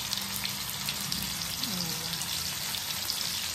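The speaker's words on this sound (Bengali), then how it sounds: "মাছটা ভাজতে বসাই" Fish frying in a pan in a home kitchen, a steady crackling hiss of hot oil with a brief voice in the background.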